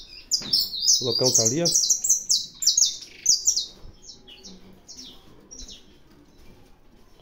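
Saffron finches (canário da terra) squabbling in a breeding aviary, a busy run of sharp high chirps and scolding calls, loudest early and thinning toward the end, with a brief spoken voice and some handling noise underneath.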